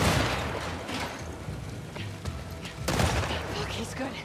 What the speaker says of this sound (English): this dude's got unlimited shots.